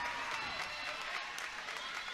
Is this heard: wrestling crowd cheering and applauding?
yes